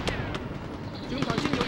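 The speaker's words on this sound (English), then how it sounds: "I hear a bazooka." Rapid gunfire and blasts, including bazooka fire, pop through a chaotic battle in the PS2 game Mercenaries, with sharp repeated shots under a player's talk.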